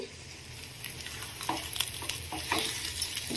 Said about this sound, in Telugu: మూత పెట్టుకొని మధ్య మధ్యలో కలుపుకుంటూ ఫ్రై చేద్దాము